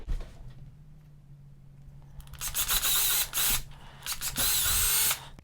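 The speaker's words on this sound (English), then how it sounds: "I'm going to go ahead and drill that hole really quick for you" After a quiet hum, an electric drill whirs in loud bursts, revving up, pausing briefly, then biting in again as it bores through material close by.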